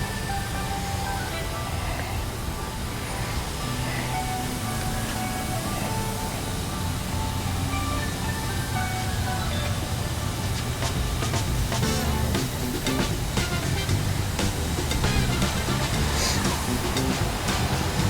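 Heavy spray and rushing water from an automatic car wash drench a Cybertruck all the way to its tailgate and rear bumper, a steady dense roar filling the whole stretch with brief clattering bursts toward the end.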